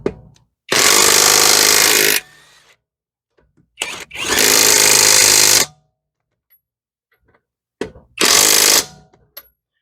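A cordless 1/2 inch impact wrench runs in three loud, close bursts of rapid hammering, separated by short pauses, working on lug nuts.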